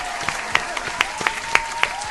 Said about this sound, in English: So let's give the super producer a round of applause.